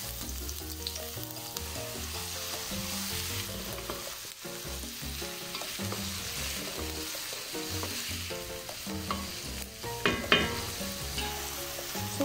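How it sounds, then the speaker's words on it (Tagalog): Onion hitting hot cooking oil in a pan gives a steady, close frying sizzle that runs the whole time beneath tonal background music. "pag medyo mainit yung ating cooking oil, ilagay natin yung ating sibuyas or"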